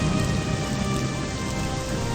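Steady rain in the game Morrowind falls as a dense, even hiss with a constant hum underneath. It is continuous and fairly loud, with no voices.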